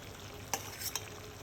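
Chicken is stirred with biryani masala in a pan under a steady soft sizzle, and two or three quick spoon clinks and scrapes stand out close by.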